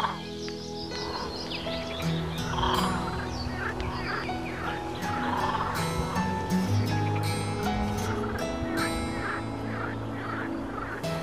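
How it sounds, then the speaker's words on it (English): A dense chorus of toads and frogs calls at Lake Komarnik, a woodland pond habitat in early spring, with overlapping croaks, trills and honking calls layered continuously and fairly loud throughout. "Toads may be heard in early spring."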